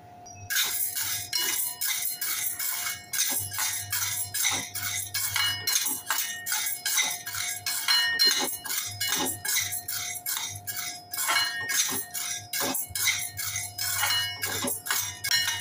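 Chana dal dry-roasting in a pan while being stirred, giving steady rapid metallic clinks and scrapes of a spatula against the pan, close and fairly loud, with a constant low hum underneath and no talk.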